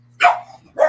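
A dog gives two sharp, loud barks close by, about half a second apart.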